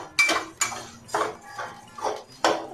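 Whole spices including nigella seeds are stirred in a pan while dry-roasting for a dried mango pickle masala, with five or six distinct clinking scrapes of a spoon against the metal pan, evenly spaced and close, with no talking.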